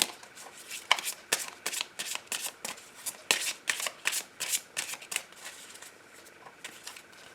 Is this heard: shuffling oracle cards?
yes